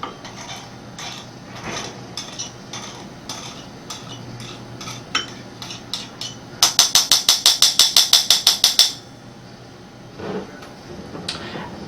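A utensil clinks and scrapes against a container while soil is stirred in a sodium hexametaphosphate solution, with scattered taps, then a fast run of about a dozen rhythmic metallic strokes before it trails off.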